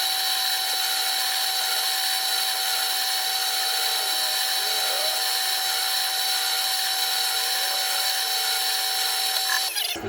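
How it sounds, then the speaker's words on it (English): A brad point drill bores inlay dot holes into a 1959 Les Paul Special guitar neck, a steady high whine running loud and continuous before stopping right at the end. "I use a brad point drill, so it's not got a tapered edge, so it cuts more of a square hole"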